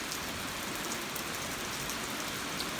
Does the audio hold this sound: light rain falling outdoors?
yes